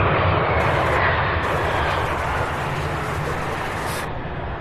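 A Mesa Airlines airplane roars loudly and steadily at an airport, a broad continuous engine rush that eases slightly toward the end, with no talk.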